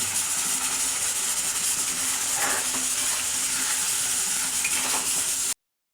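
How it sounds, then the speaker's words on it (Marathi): Masala spices fry in very hot oil with a loud, steady, hissing sizzle close by, continuous and unbroken until it cuts off abruptly. "मसाला पण चांगला तेलामध्ये भाजून घ्यायचा आहे बघा"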